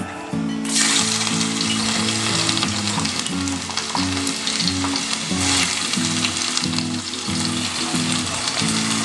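Garlic hits hot oil over a high flame and erupts into a loud, close, continuous sizzle that holds steady throughout without any talking.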